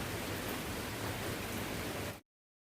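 Steady, dense hiss of rain falling, continuous and fairly loud for about two seconds before stopping abruptly.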